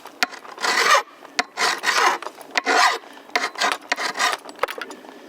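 A double-cut hand file rasps across a chainsaw chain's cutter teeth in repeated gritty strokes, each about half a second, close and distinct, with small metallic clicks between strokes.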